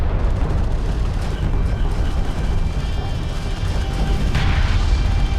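An armored vehicle blows up in the desert warfare strategy game Deserts of Kharak: a loud, sustained roar of explosions and booming rumble runs through the whole stretch of battle noise, with a brighter burst near the end.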